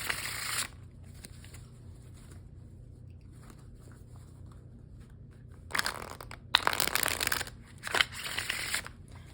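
Bursts of stiff tarot cards being shuffled, a riffle at the start then several crisp shuffling passes near the end, with quiet pauses between.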